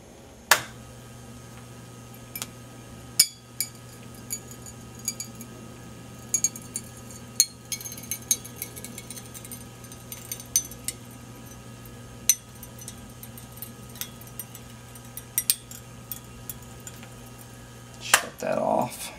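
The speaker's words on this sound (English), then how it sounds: "I'm going to turn the laser on and show how well it can score the glass" A small CO2 laser scores a sheet of glass: a steady low electrical hum runs throughout, with scattered sharp ticks and crackles and a brief clatter near the end.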